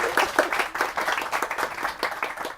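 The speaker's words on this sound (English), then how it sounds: "let's give a big round of applause" An audience at a book talk on fugitive feminism breaks into a dense round of applause, steady and fairly loud, many hands clapping together throughout.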